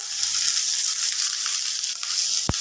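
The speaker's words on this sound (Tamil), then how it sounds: "போட்டுட்டு வெங்காயம் அனியன் போடுறேன்" Onions frying in a pan just after a mustard-seed tempering for a vegetable kootu gravy: a steady, bright sizzle runs throughout, with one sharp click near the end and no talking.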